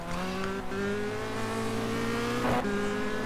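A Renault Clio touring car in the rFactor 2 racing game roars at high revs, a steady, harmonic-rich engine drone that dips briefly on a gear change near the end, loud and continuous with no talking.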